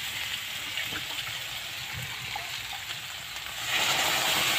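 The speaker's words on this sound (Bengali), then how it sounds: "এখানে এবার আমি সামান্য জল ব্যবহার করব।" Hot water is poured into a pan of cooking lotiya fish, a hissing sizzle that swells into a louder rushing gush in the final second.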